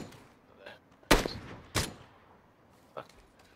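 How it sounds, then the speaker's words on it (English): Gunshots in a squad-based shooter video game, two loud sharp cracks close together followed by a fainter distant shot, with low background noise between. "I can hear them shooting up there."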